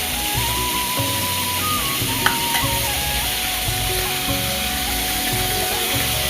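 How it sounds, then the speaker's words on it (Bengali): Pomfret fish frying in a hot pan at home, giving a steady, loud sizzle that runs without a break for the whole stretch, with a faint short clink partway through. "মাছ ভাজা এখনো চলছে।"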